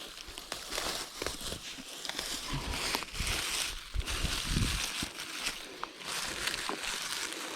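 Sword ferns are crushed and stuffed into the failed hub of a Biktrix Juggernaut Ultra FS e-bike on a trail: steady close rustling, crackling and crunching with irregular snaps, continuing for several seconds.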